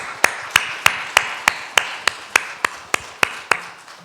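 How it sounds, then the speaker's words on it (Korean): Members of a church congregation give a slow round of applause during a Sunday service, a dozen evenly spaced sharp claps ringing out clearly in a reverberant hall and fading at the end. "이들을 위해서 감사의 박수 한번 하겠습니다"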